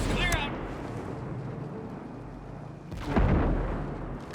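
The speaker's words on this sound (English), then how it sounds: "Hostile mortars on the way! Mortars, clear out!" Incoming mortar shells in the video game Ghost Recon Breakpoint, a loud explosive boom about three seconds in over a steady rumbling battle bed, with a voice speaking early.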